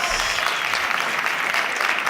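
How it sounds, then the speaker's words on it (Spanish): Audience applause for a comedian's stand-up act in Spain, a steady, dense wash of clapping from a crowd that fills the whole moment at even loudness. "Un fuerte aplauso, por favor,"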